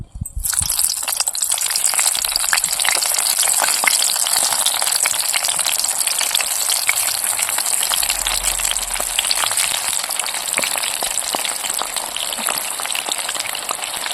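Eggplant fritters (vankaya bajji) frying in hot oil for a Kurnool-style meal, a loud, steady sizzling hiss with dense crackling spatter that holds evenly throughout, close up and with no voices.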